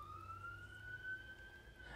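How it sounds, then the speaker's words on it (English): Police car sirens pass outside, a faint wailing tone sliding slowly upward over a low background hum, distant and muffled through walls. "Can you hear the sirens?"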